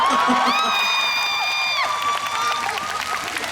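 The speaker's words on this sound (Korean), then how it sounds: "다 같이 기분 좋으니까 그냥 이유 없이 한 박수 한번 쳐볼까요?" An outdoor concert crowd at a singers' festival cheers and applauds, a broad wash of clapping with high whoops and excited shouts rising over it, loud and continuous.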